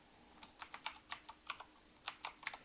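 Typing on a computer keyboard while setting up a C++ class, an uneven run of about a dozen soft, close key clicks, some in quick pairs, with no talking.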